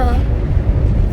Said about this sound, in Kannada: ಎಷ್ಟು ಗಾಳಿ ಗೊತ್ತಾ